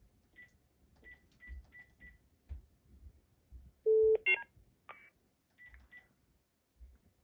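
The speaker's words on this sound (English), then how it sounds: "what normally happens when a call waiting call comes in is you'll hear the call waiting tone and the CPE tone" Telephone line signalling with a burst of caller ID FSK data and call waiting tones: short repeated mid-pitched beeps, a loud steady tone, then brief warbling data bursts, all over faint low line noise.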